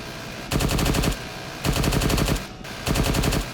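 A helicopter door gunner's weapon in ArmA 3 fires three loud, close bursts of rapid automatic fire, each lasting about half a second to a second and separated by short pauses.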